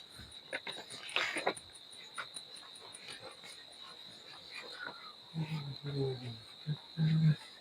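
Insects chirp from the ground on a mild winter night outdoors, a steady high-pitched trill running throughout, with scattered footsteps and rustling nearby and a few louder low bumps near the end.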